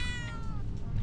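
A cat named Marlene meows once in a video game, a short rising-falling mew heard close and clear over faint background ambience.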